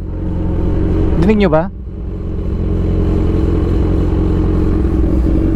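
A Kawasaki Z1000 motorcycle idles with a loud, steady rumbling engine noise that runs the whole time, close by, while someone briefly speaks over it near the start.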